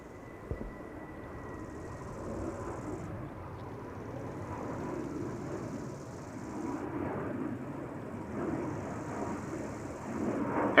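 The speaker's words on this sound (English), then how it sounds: "A320neo going to Attirau." An Airbus A320neo jet taking off at Amsterdam Schiphol Airport, heard as a broad distant engine roar that builds slowly and holds steady, faint and far off, with no voices.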